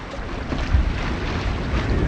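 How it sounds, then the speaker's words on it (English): A strong gust of wind roars across the microphone while a sailboat cruises fast on a lake. The rushing air and water noise stay loud and steady, with no talking. "Just got a gust."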